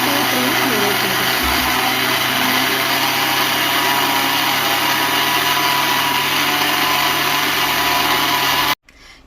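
A mixer grinder runs steadily at high speed grinding red rice into flour, giving a loud, constant whine that stops abruptly near the end.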